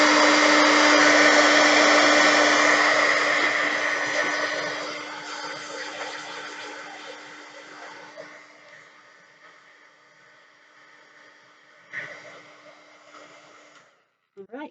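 A heat tool blows hot air over a layered wood stamp, top first and then around the sides: a loud, steady hair-dryer-like whoosh that slowly weakens, with a brief surge near the end before it cuts off.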